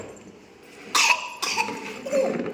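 A young child coughs a few times in quick succession near the mic, short harsh bursts spaced over a couple of seconds, after sitting on a new chair indoors.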